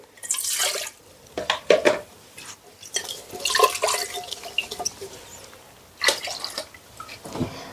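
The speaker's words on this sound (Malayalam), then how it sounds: "ഞാനിത് നന്നായിട്ട് അങ്ങ് കഴുകിക്കളയുവാണേ" Water splashing and dripping while a decorative fish bowl is rinsed out, irregular soft splashes and trickles close by, fairly quiet, with no talk.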